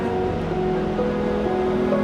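Sea waves at a crowded beach in Zambales make a steady, loud rushing wash with a faint tonal hum running underneath and no voices.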